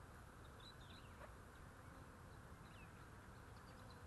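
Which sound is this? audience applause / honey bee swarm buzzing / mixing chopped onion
honey bee swarm buzzing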